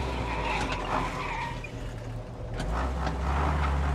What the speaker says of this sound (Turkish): Baba çeker el frenini.